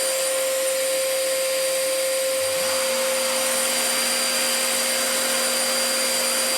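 A router spins up partway through and settles into a steady high motor whine, layered over the constant loud roar of a workshop dust extractor.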